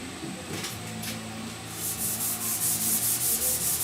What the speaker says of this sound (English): Still block sanding around this windshield.